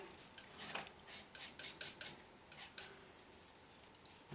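A palette knife cuts into and scrapes oil paint during a knife painting demo on a wood panel, giving a string of short, faint scraping strokes with no voices.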